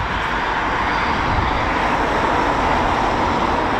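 A Eurofighter Typhoon FGR4 jet at RAF Coningsby's quick reaction alert station gives off a loud, steady engine roar that fills the whole moment without a break, close and overpowering, with no voices.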